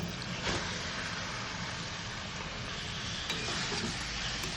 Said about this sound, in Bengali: আর এই অবস্থায় আমি ম্যারিনেট করা চিকেনটা দিয়ে দিচ্ছি।